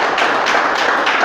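A church congregation applauding during a service, a dense, steady wash of many hands clapping together with no break.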